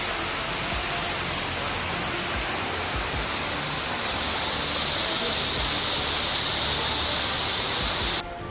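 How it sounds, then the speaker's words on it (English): Steady, dense rushing roar of a large indoor waterfall inside the Cloud Forest greenhouse at Gardens by the Bay, continuous and fairly loud with no breaks. "And now we're getting a peek at the waterfall view"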